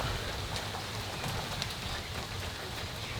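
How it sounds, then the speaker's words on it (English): Heavy rain pours down outdoors in a dense, unbroken hiss of drops hitting surfaces, steady and fairly loud throughout, with no one talking. "It's raining a hell of a lot."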